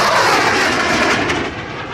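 An AV-8B Harrier II+ jet roaring at the MCAS Miramar air show, a loud broadband rush of engine noise that holds steady then eases slightly, with no talk.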